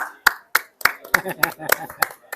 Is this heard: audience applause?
yes